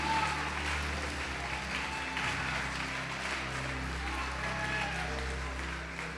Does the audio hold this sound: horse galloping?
no